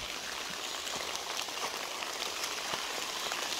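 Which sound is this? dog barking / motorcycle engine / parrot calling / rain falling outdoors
rain falling outdoors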